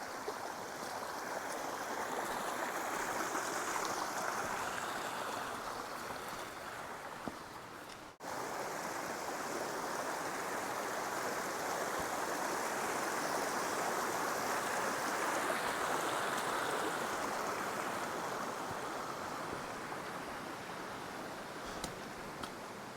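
A deep river rushes steadily past hikers crossing it on a mountain trail, a broad, continuous wash of flowing water heard close and unbroken, with no talk.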